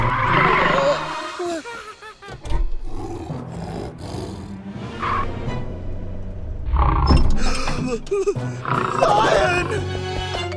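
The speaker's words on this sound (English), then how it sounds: "A new lion is coming to the animal sanctuary!" A cartoon lion arriving at an animal sanctuary lets out several loud roars in bursts, mixed with music and animated effects, while voices speak between them.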